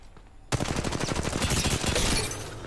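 Rapid automatic gunfire from an Apex Legends Mobile match bursts in after a quiet half-second, then rattles on as a dense, loud stream of close shots with no pauses.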